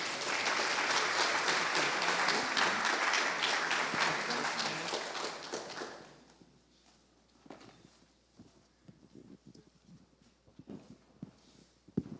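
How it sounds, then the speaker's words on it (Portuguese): Congregation applauding in church, a full burst of dense clapping for about six seconds that drops abruptly, leaving a few scattered claps, shuffling and faint room sounds. "Salva de palmas, irmão."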